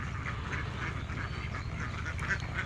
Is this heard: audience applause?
no